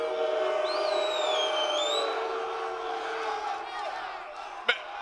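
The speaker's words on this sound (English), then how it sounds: "What does it feel like to be booed up there?" A large crowd boos fighter Ankalaev, a loud sustained jeer with shrill whistles rising over it and a sharp clap-like spike near the end.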